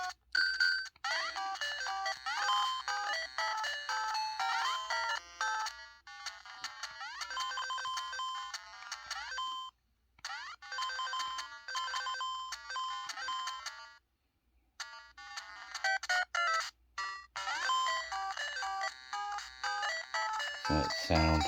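Game Boy game music plays from an Anbernic RS97 handheld, a bright beeping chiptune melody with brief dropouts and stutters, heard alone at moderate volume.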